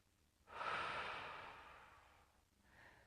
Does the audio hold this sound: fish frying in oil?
no